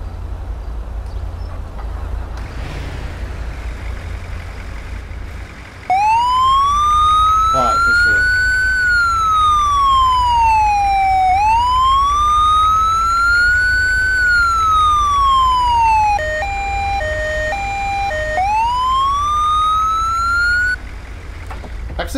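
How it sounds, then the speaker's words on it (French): Dual emergency vehicle sirens under test, a loud close wail sweeping slowly up and down, then switching to a rapid two-tone yelp before returning to the wail, over a low idling rumble. "toutes les sirènes fonctionnent"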